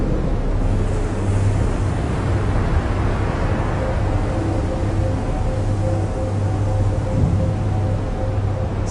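Big ocean waves breaking at the Jaws surf break on Maui, a continuous heavy roar of surf mixed with wind buffeting the microphone, steady and loud throughout.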